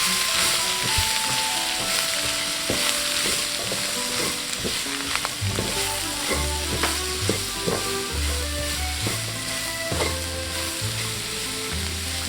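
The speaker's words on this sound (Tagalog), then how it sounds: "saute it with the rest of the vegetables" Shiitake mushrooms and vegetables sauté in a hot pan, a steady loud sizzle broken by clacking strokes of a utensil stirring and scraping.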